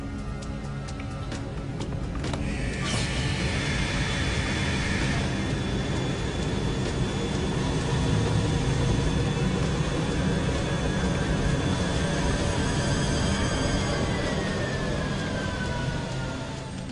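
A jet engine runs at reduced power, about 35%, during a water ingestion test, giving a steady loud roar with broadband rush and a sustained high whine that holds throughout, no voices.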